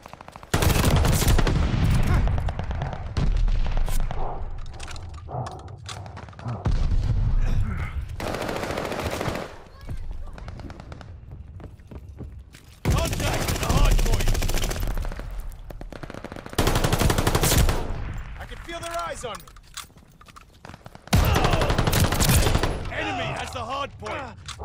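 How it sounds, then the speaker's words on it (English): Repeated bursts of loud automatic gunfire at a hardpoint in Call of Duty: Vanguard, rapid close firing in several long volleys separated by brief lulls, with occasional game voices between. "Hard point's under fire."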